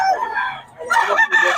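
A rooster crows twice in quick succession, close and fairly loud, the second call breaking into a short clucking tail.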